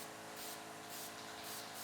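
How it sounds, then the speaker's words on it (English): Adhesive glue is sprayed onto the fabric backing of a 2007 GMC Sierra truck part in a close, continuous aerosol hiss. The sound swells and eases in a few passes, with no talking. "Spray a little glue on the backside."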